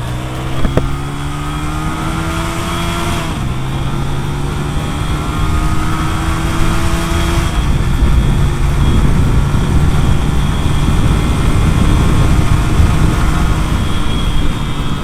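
A modified Honda Megapro japstyle motorcycle accelerates hard through the gears on a road speed test, its engine revving up in rising sweeps with shifts in between, loud and close, steady droning throughout.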